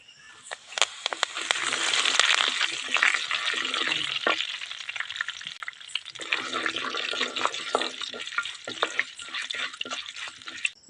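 Dal frying in oil in a pan for rye upma, with curry leaves going in, makes a loud, dense sizzle close by that rises at the start, dips briefly midway, then crackles on steadily with sharp spits.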